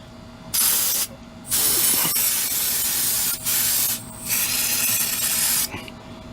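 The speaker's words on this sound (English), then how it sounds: "spray around that real quick" Spray bursts around the oil seal area of a Yard Machines engine: four loud, sustained hissing blasts of about a second each, separated by short pauses.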